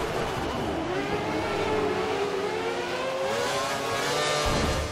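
Formula One race cars in F1 2013, Malaysian Grand Prix, scream at high revs, their engine tones sweeping and shifting as another car closes in to overtake; loud and continuous.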